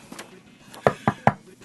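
Knocking on wood, three distinct close knocks in a quick, even rhythm after a faint tap or two, set against a quiet background.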